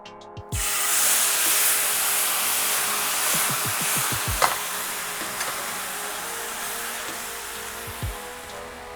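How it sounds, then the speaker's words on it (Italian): A hot steak pan deglazed with demi-glace bursts into a loud, sustained sizzle and hiss that slowly fades, with a few soft utensil knocks under it. "E quindi deglassiamo la padella con la demi-glace fatta in precedenza."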